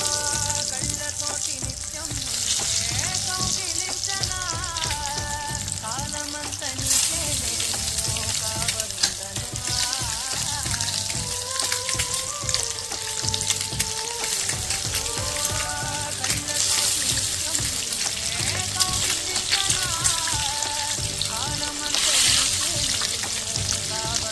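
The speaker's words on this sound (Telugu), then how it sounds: "ఎగ్స్ని నేను ఎలా డ్రాప్ చేస్తున్నానో అలా డ్రాప్ చేయండి." Eggs fry in a hot pan with a dense, continuous crackling sizzle like steady rain, close and loud, while music plays underneath throughout.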